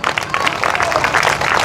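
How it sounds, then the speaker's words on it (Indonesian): Church congregation clapping at a revival service, a dense burst of applause filling the hall briefly with voices mixed in. "Berikan tepuk tangan buat Tuhan."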